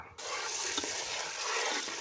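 A pan of pepper sauce with tomato paste sizzles and hisses steadily at close range, with faint scraping as it is stirred.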